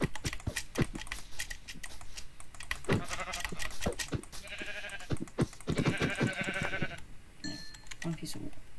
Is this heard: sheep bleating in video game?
yes